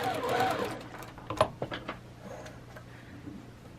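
Sewing machine stitching quilt blocks with a quarter-inch seam, a short whirring run at the start followed by a few soft mechanical ticks and clicks as it slows and stops.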